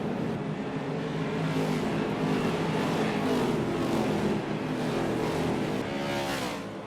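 A pack of race cars roars around Richmond Speedway in a sustained, loud engine howl, several cars bunched together with rising and falling revs blending into a continuous wall of sound.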